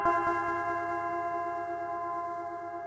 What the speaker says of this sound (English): which has just absolutely cranked delay and reverb